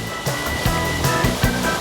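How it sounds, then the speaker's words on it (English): Water torrents pour down Dunn's River Falls in Jamaica, a loud, steady rush of spray and crashing flow with rhythmic surges breaking every half second or so. "climb through the spraying torrents of the water of the Dunn's River Falls"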